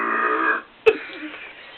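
A single short, sharp human burp stands out right after a stretch of talking, loud and close, followed by quieter murmuring.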